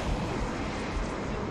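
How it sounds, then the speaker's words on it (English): Plasma grenade blast in the video game Halo Reach, a dense, loud rumbling burst of explosive noise that fills the whole short moment with churning low-end roar and no clear gaps. "Plasma grenade hit the box next to me and landed and killed me."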